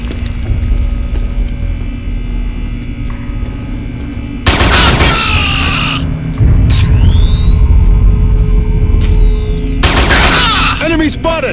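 Gunfire in the PS2 game Killzone: loud bursts of rifle fire and booms over a steady mechanical hum, with whistling, sweeping effects and shouted soldier voices in between.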